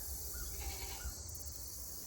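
Goats bleating on a small farm with chickens and rabbits, two short wavering calls close together, faint under a steady hiss of outdoor background noise.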